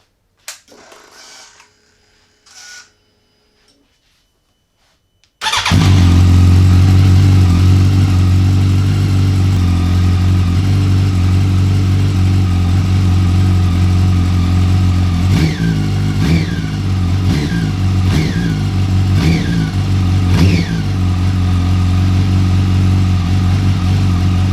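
A wrecked Yamaha R1 sportbike with a broken, welded engine starts after a few seconds of faint handling noise, then runs loud and steady at close range, with a series of sharp throttle blips near the end.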